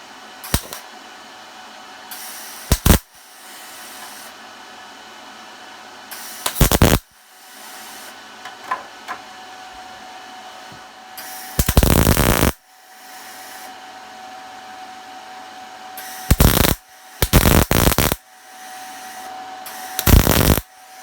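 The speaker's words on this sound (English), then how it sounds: "So let's get welding." Tabs being welded onto a Class 2 Jeep Wrangler RC rock crawler chassis. Loud, harsh bursts of crackling buzz last about half a second to a second each, repeated seven or so times with quieter gaps between them.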